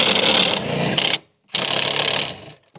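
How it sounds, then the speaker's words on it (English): A power tool loosens seat bolts inside a Nissan Patrol Y62 in two close, loud bursts of rattling whir about a second each, separated by a short silence and ending with a small click. "So now we basically have to reverse the same process and unscrew the seat bolts again"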